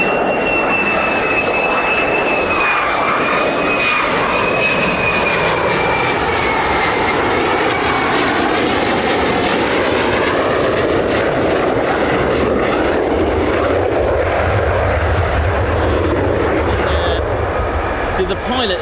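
Fighter jets on ILS approach to RAF Lakenheath, home of the 48th Fighter Wing with F-15s and F-35s, a loud continuous roaring engine whine with a steady high tone that slowly shifts, heard throughout.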